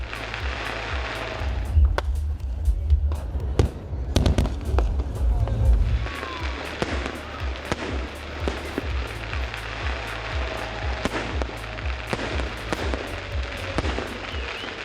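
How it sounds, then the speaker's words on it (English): Fireworks burst over Colombo, Sri Lanka, at Galle Face Green and Port City during New Year celebrations, giving a steady series of sharp crackles and pops with heavier thumping booms near the start, over a faint background murmur. "at Golface Green and Colombo Port City, more fireworks were displayed, adding colour to the skies of Colombo"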